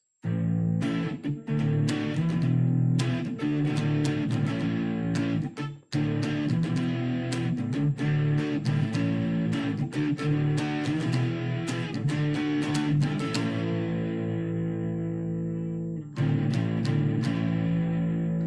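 Electric guitar, a Zeny 30-inch youth guitar through a Line 6 amp with light distortion, plays sustained chords and notes, loud and continuous, with a brief pause midway and another near the end.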